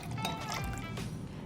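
Vodka, 50 millilitres, poured into a cocktail shaker for a pink porn star martini, a steady liquid trickle with faint splashing, close and moderately quiet, ending with a small knock.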